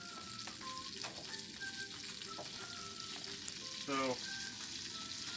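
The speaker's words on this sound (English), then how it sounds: "we're going to be making ourselves bacon" Bacon frying in a buttered pan makes a steady, quiet sizzle and crackle, with a brief voice partway through.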